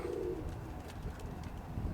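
Soft, low pigeon cooing close by from pigeons in a cage, a steady murmuring coo over a dull background hum.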